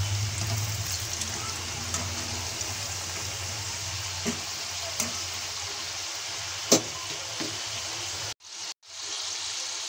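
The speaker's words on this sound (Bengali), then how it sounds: "আমি আলুগুলো সবগুলো তেলের ভিতর দিয়ে দিয়েছি।" Potato french fries fry in hot oil, a steady close sizzle and bubbling hiss with a few small pops, cutting out abruptly near the end.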